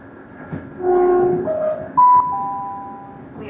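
Passenger train on the Far North Line from Inverness to Wick running as it approaches a request-stop station, a steady low rumble of the carriage with a sustained tonal whine or horn-like note cutting through.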